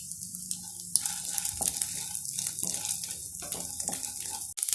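Roasted gram is stirred with coconut dry-frying in a pan for Karthigai pori, making a bright, steady hiss with intermittent soft scraping strokes, close by and with no voices.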